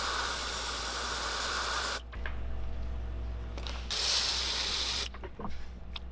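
Bursts of steady airbrush spray hiss painting the pupil on a swimbait lure's eye, one long stretch and a shorter one, separated by quieter pauses with faint mechanical clicks.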